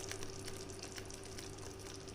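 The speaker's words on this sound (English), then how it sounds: "I can hear the bubbles inside, so I don't want the gravy to splatter." Paneer butter masala gravy bubbles in a covered pot on a hot plate, a soft, continuous simmer of faint pops and crackles at low level, with no voices.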